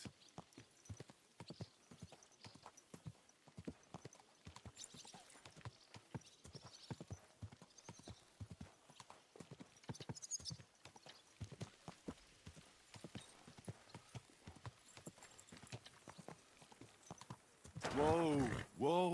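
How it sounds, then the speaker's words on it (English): Horse hooves clip-clop steadily in the medieval-set video game Kingdom Come Deliverance 2, a continuous rhythmic walking beat at moderate distance, with a rider's voice speaking over it and a louder burst of movement at the end. "Easy, good horse."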